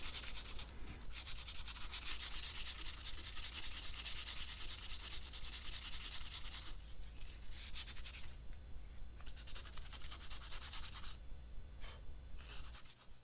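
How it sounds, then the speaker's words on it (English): Steady, rhythmic hand sanding on a heat-treated steel knife blade, close and quiet, with repeated back-and-forth rasping strokes and a couple of brief pauses. "So once again, it's back to the sanding."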